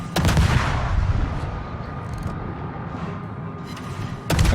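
Warship guns firing in a naval video game, a heavy booming salvo at the start followed by a long rumbling decay, then another sharp blast at the end.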